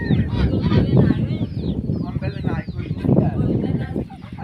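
A flock of ducks on a riverside village farm quack and honk continuously at close range, overlapping calls in a busy, noisy chorus under a cloudy outdoor setting.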